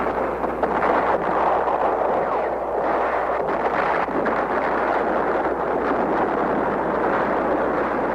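Marine ammunition dump exploding at Khe Sanh during the battle, heard as a sustained, loud, roaring rumble with broad blast noise and no distinct separate bangs.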